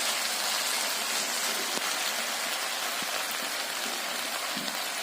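Fish frying in hot oil crackles with a dense, steady hiss that holds at an even level throughout, broken by a few sharper pops.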